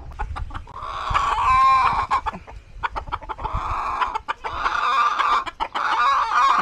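A flock of backyard chickens on a farm clucks continuously and close by, with busy overlapping calls and a rooster among them, steady throughout with no talking.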